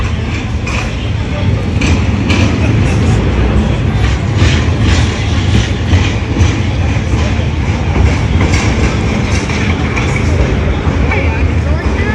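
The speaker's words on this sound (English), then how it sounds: "the trams here definitely remind me of Istanbul" A tram rumbles along rails through a Polish city, a loud continuous rolling clatter with rhythmic wheel clicks close by, while a voice talks over it.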